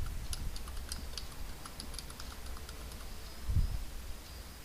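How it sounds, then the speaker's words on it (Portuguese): Soft clicking of a computer keyboard while typing into the Windows search bar, light scattered keystrokes over a steady hiss of background noise. "nós vamos novamente aqui na barra de pesquisa do Windows e vamos digitar painel"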